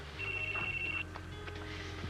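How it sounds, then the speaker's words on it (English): A mobile phone rings indoors with a bright, steady electronic tone: one long sustained burst followed by shorter, fainter repeats over a low background hum. "It's my phone."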